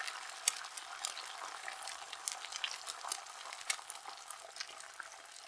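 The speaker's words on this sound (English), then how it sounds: "now I'm frying some eggs" Steady, crackly sizzle of eggs frying in a pan with scattered sharp pops, moderately quiet and continuous, no voices.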